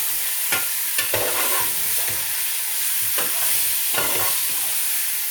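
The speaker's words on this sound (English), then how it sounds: "Now into the pan I'm going to put the lamb, and we're going to seal the lamb." Lamb sears in a hot pan for a masala, giving a loud, continuous sizzle with repeated scraping stirs of a utensil against the pan.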